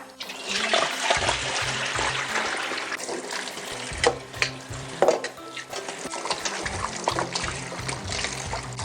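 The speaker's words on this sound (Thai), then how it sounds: "จากนั้นก็นำไปล้างน้ำเกลือออกเดี๋ยวจะนำมาแช่น้ำปูนใสกันค่ะ ล้างสัก2มน้ำนะคะ" Tamarind pods soaked in brine being rinsed under running water, a steady splashing and trickling with occasional louder sloshes and clatters as the fruit is washed, close and continuous with no talk.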